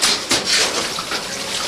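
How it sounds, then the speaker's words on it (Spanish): Floodwater around flooded houses after heavy rains in the Bajo Yuna area, a steady broad rushing and splashing wash of water, loud and close, with brief sloshing surges. "todas estas casas están inundadas de agua"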